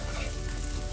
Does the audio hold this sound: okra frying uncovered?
yes